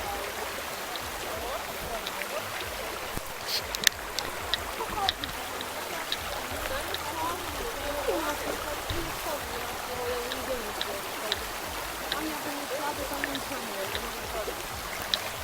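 Mountain stream in the Carpathians, a continuous close gurgle and splash of flowing water with faint voices of people nearby in the background.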